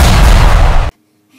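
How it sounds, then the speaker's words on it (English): Creeper explosion in Minecraft, a loud close blast that roars for under a second and then cuts abruptly to near silence. "The explosion didn't really damage me a lot."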